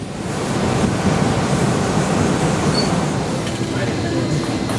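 Sea water rushes steadily past the sailing ship Royal Clipper on a fairly calm sea in very light wind. A continuous broad wash of water and wind stays close and even throughout.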